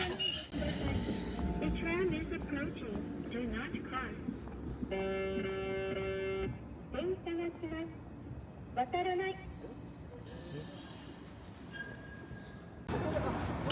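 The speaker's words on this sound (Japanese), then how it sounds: "駅の方より路面電車が来ました。" A tram rolls past near Toyama Station, Japan, with rumbling wheels, clinks and a chiming bell signal, over busy street ambience and voices talking nearby.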